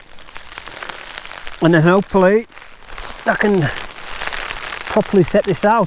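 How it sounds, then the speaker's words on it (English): Heavy rain and gusting wind lash a makeshift bivi camp, a steady broadband hiss of downpour running continuously beneath someone speaking in short bursts. "It's just too heavy, this rain and the wind."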